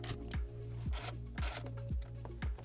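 Bolts being backed out of the factory radio mount in a Lexus LX dashboard, a steady repeating ratchet-like clicking with a few brief brighter metallic rasps, close and fairly quiet, no talking.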